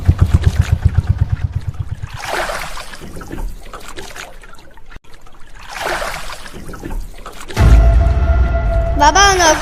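A motorboat engine on a river in the Sundarbans: a rhythmic low chugging opens, people talk loudly over it, then a heavy, close engine rumble surges in for the final seconds.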